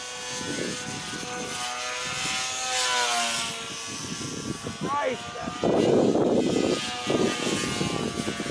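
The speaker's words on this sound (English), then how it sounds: "It doesn't sound electric, it sounds kind of like a gas-powered airplane." A P-51 model airplane with a gas-powered propeller engine flies past outdoors, a steady buzzing drone that shifts in pitch as it passes, with a person talking over it.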